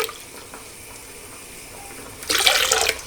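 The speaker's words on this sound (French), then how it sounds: "J'ai besoin d'un verre et demi d'eau tiède." Lukewarm water runs into a glass for a Ramadan recipe, a soft splashing pour that swells louder near the end, close and alone without speech.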